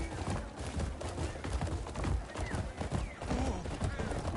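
Horse hooves gallop up a hill in the video game Crimson Desert, a steady drumming of hoofbeats over a loud, busy game soundscape with music.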